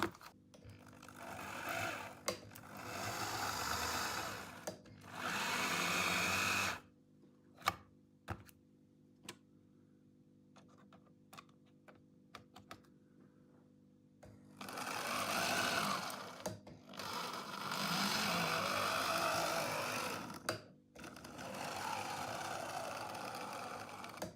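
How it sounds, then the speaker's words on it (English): Piko Deutsche Reichsbahn BR01 model locomotive running on a piece of test track, giving a fast whirring motor buzz in several bursts of a few seconds each, separated by quiet gaps with scattered clicks. "put this on a piece of test track to make sure it runs"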